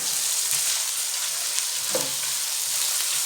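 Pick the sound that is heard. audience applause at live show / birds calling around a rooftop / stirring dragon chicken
stirring dragon chicken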